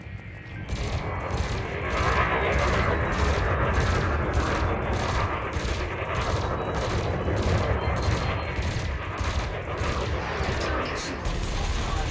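Spaceship burst lasers fire at a target ship's shields during an Elite Dangerous combat tutorial, with regular rapid bursts of shots over a loud, steady engine rumble.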